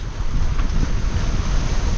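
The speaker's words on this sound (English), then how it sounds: "There's a lot of wind." Strong wind of about 28 knots roars steadily at sea aboard a sailing boat, buffeting the microphone with a dense low rumble and a constant hiss, no voices present.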